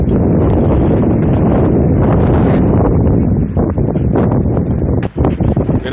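Strong wind buffets the microphone outdoors beside an HVAC condenser unit, loud and continuous rumbling gusts that ease slightly toward the end, with no speech.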